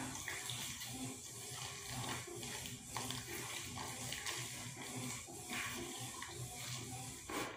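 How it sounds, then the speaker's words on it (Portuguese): Hot water poured from a container onto cassava puba dough for scalding, a steady close rushing splash that runs continuously with little variation. "Vou colocar essa água aqui, gente, ó, nessa massa pra tá escaldando ela"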